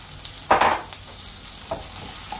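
Squash, string beans and eggplant hit a hot pan for ginataang gulay, giving a brief loud sizzling burst, then softer stirring and frying under a steady low hiss.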